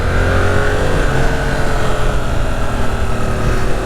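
A 2022 Yamaha R7 motorcycle engine pulls hard under acceleration, a loud, steady drone with wind rush mixed in, held at close range without a break.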